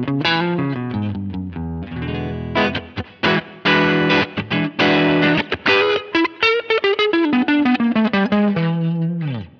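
Distorted electric guitar on the neck pickup of a Vigier Expert Strat-style guitar through a Helix amp model, playing a fast lead line with rapid picked notes and sustained bends, tails ringing out with reverb.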